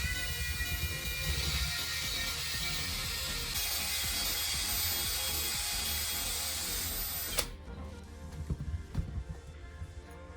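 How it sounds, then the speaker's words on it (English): A drill spins a welding rod while pliers strip away its coating, a steady loud whirring grind for about seven seconds that cuts off, followed by quieter rattling and clicks. "Turn the drill on and use pliers to strip away the coating from the rod."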